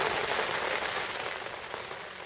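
Rain falls steadily at a lake on a spring day, a dense, even hiss of drops spattering surfaces close by that continues without pause and fades slightly toward the end.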